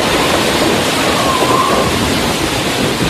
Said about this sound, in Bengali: বাইরে বৃষ্টি ঝরে চলেছে।